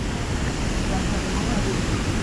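A river and waterfall at Nglirip in Tuban, East Java, rushing in a dense, steady roar of broadband water noise, loud and close, with no other sounds standing out.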